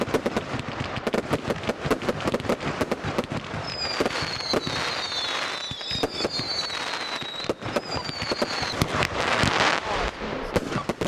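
Fireworks display being fired, a dense rapid barrage of cracking bursts and booms with whistling rockets rising in the middle, loud and continuous.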